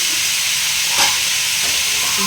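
Steady loud hiss and sizzle from a simmering pot of papaya and potato curry as the lid comes off, with a soft clink near the middle.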